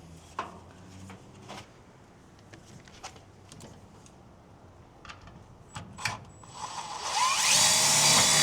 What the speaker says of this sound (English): I'll just throw a self-tapper through it into the inner fender well